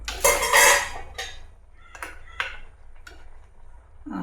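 Metal clatter of a cooking pot lid being lifted off a simmering Kerala pumpkin curry, a loud clanking burst at the start followed by several sharp lighter clinks and taps spaced across the next few seconds, no talk.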